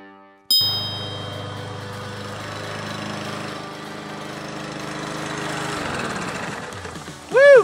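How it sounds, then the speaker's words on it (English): A kids' toy lawn mower running steadily at close range, a constant motorised drone with a tonal whine lasting several seconds, ending with a bright chiming ding. "Mowers, weed eaters, blowers, let's cut some grass."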